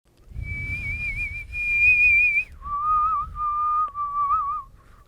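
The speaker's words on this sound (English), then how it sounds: "It's a haunting whistle." A person whistles a clear, sustained high tone, then drops to a lower wavering pitch with slight vibrato, close and alone over faint background rumble.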